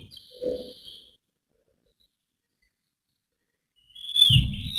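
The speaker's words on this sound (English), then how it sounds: "We've got the bird sound." A short whistled bird call sounds faintly in a quiet room, brief high tones at the start and a louder chirp near the end, with a moment of silence between.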